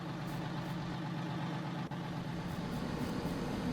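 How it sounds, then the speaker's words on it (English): A grain dryer runs in Farming Simulator 19, giving a steady, continuous mechanical drone with a low engine-like hum that holds even and unbroken throughout. "I mean, that dryer's running, isn't it?"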